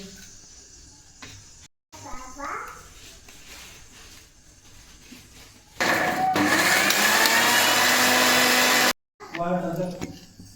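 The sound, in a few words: electric mixer grinder grinding cooled masala paste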